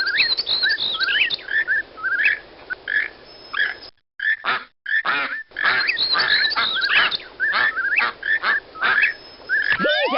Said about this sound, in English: Click on the duck, toucan, whippoorwill, and blackburnian warbler for a real song fest.